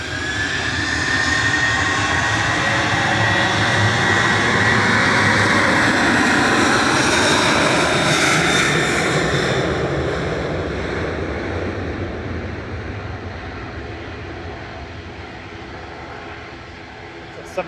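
A Ryanair Boeing 737-800 with scimitar winglets departs Manchester Airport, its jet roar loud and steady for about ten seconds before slowly fading into the distance, with wind buffeting the microphone.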